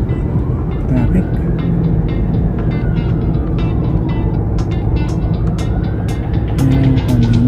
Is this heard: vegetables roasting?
no